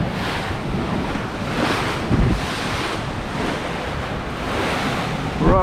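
Sea waves wash against a harbour-side walkway at high tide, a continuous roaring surf with gusty wind buffeting the microphone, surges swelling and easing with no voices.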